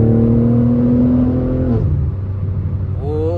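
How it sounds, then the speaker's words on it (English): A BMW G80 M3 Competition with a valved exhaust, heard from the cabin: a loud droning engine note that drops off as the revs fall, then rises again briefly. "I cannot get over this exhaust"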